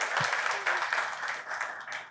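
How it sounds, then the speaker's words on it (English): Brief, moderately faint applause from an audience at a live storytelling event, a scattering of hands clapping steadily for a couple of seconds, with a small thump near the start. "Let's give her another round of applause."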